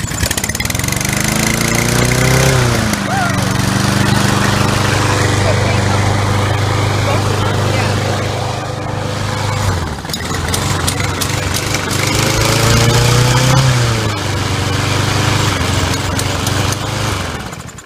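A Craftsman lawnmower engine revs hard and runs loud and close, its pitch climbing and falling in two big surges with a steady rumble between them.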